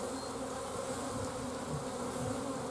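Honey bees buzz in a constant, even drone as a nuc is installed into a hive, the sound close and unbroken from start to finish with no speech.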